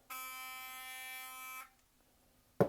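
A Philips Sonicare electric toothbrush gives off a loud, steady high-pitched buzz for about a second and a half, then cuts out, followed by quiet and a short knock at the end.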